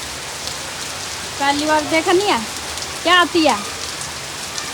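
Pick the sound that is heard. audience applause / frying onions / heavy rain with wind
heavy rain with wind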